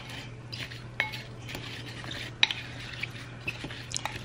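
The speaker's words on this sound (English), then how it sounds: "We're going to mix all of this up." Apples tossed with cinnamon in a bowl, quiet scattered clinks and taps of a utensil against the bowl over a low steady hum, fairly faint and close.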